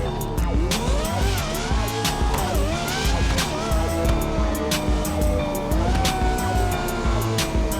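A Lamborghini driven in sequential gear mode, with a loud, close engine whose pitch climbs and drops through repeated shifts, including downshifts, and faint tire squeal under the roar.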